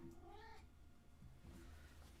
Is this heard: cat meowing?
yes